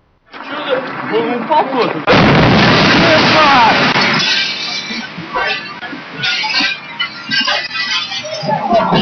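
A sonic boom from a meteor exploding over Russia's Ural region: a sudden, powerful boom erupts into a long roaring rumble that slowly fades, with voices and scattered clatter around it.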